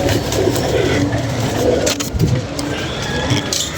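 Pigeons cooing in low, repeated murmurs, heard close and fairly loud over a busy outdoor background with a faint vehicle engine hum.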